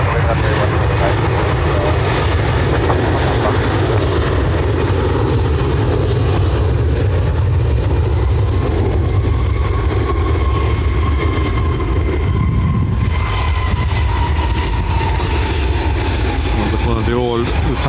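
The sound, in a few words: Lufthansa A321 airliner taking off at Dublin Airport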